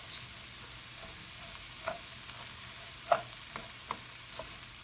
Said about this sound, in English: it's very important that you stir the orzo because we don't want it to melt